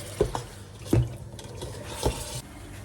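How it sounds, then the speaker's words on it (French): A spoon stirs peanut-butter mafé sauce with meat in a pot after a splash of water, giving three or four distinct scraping knocks against the pot over a soft, steady simmering hiss. "alors je rajoute un tout petit peu d'eau. Je mélange."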